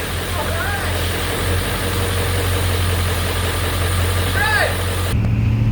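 A 1997 Ford F350 Powerstroke diesel pulling a trailer runs with a steady, loud low drone and constant rumble from inside the cab, with a brief shift in tone near the end.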